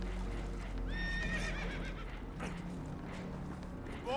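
Spooked horses whinny repeatedly aboard a leaking boat in Red Dead Redemption 2, rising shrill neighs over a constant low rumble of water and movement, with hoof clatter mixed in.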